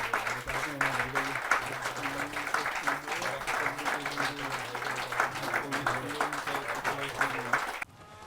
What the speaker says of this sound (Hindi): उनके लिए हम जोरदार ताली बजा करके उनका अभिवादन करें